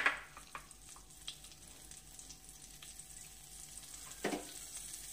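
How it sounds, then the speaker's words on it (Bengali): Onions frying in hot mustard oil in a pan over a gas flame, a steady soft sizzle with small crackles and one brief louder clatter near the end, no talking. "পেঁয়াজগুলোকে এবার ভেজে নেব।"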